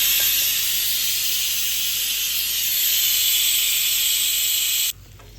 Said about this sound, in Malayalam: അപ്പോൾ അങ്ങനെ നമ്മുടെ കുക്കർ വിസിലടിച്ചു